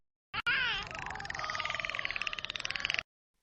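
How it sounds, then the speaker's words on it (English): A beluga whale gives one continuous squealing, buzzing call lasting under three seconds, with a rapid pulsed rattle running through the tone, isolated against silence. "Beluga whale sound."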